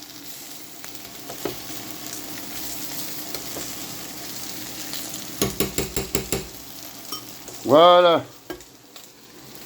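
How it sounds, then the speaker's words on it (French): Chicken in mustard sauce stirred in a frying pan, a steady sizzle running throughout with a quick series of spoon taps against the pan near the middle, then a short bright ring toward the end and a single spoken word. "Allez, on va remuer ça."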